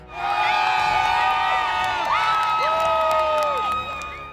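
Crowd of around 11,000 fans cheering at a national championship soccer match, loud and sustained, with high shrieks and whoops layered over a dense roar that swells and then fades near the end.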